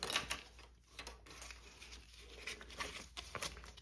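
A sewing machine top-stitches along the top edge of fabric, giving a faint, close, fast patter that speeds up and slows in short runs over about four seconds.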